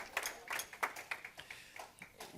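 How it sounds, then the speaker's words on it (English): Scattered hand claps from a church congregation, uneven and fairly soft, a few sharp claps standing out over a quiet room. "Clap your hands for the word of the Lord."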